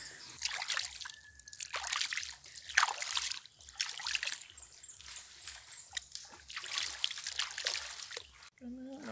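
Cold mountain spring water running in a river around a bather, splashing and trickling in uneven surges close by, with a person talking over the water.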